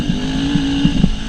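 A GPX FSE 250E single-cylinder 250 motorcycle engine idles close by with a steady low rumble and a few soft pulsing thumps, and no one speaks.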